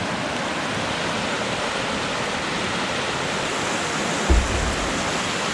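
Floodwater rushes through a swollen creek on a rural property, a steady, loud broadband roar that carries on unbroken from start to finish, with one brief low thump near the end.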